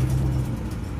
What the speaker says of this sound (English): Got the truck running.